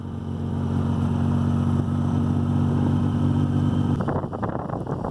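A motorcycle rides along a snowy road, its engine a steady mid-pitched drone that suddenly gives way to clattering, scraping noise near the end.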